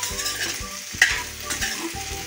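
Boiled potatoes are stirred into a sizzling pan for a fasting potato usal, with a steady fry under repeated scraping strokes of the spoon and one brighter clink midway.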